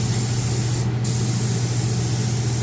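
Steady, loud spray-gun hiss of paint being sprayed, continuous and close with a constant low compressor hum underneath and a brief gap in the high hiss partway through.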